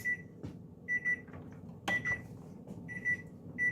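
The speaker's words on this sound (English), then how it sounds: "Timer off." Beeping from a kitchen timer or microwave while a spaghetti squash cooks comes in repeated clear electronic tones, close and fairly loud, in short double bursts spaced about a second apart, with a couple of thumps among them.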